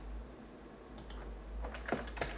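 Fingers tap a few quick keystrokes on a computer keyboard, sparse and close, over a low steady hum.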